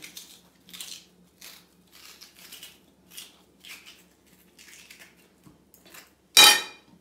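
Repeated soft scraping strokes of a spoon hollowing out a potato, in an irregular rhythm, ending with one louder, sharper scrape.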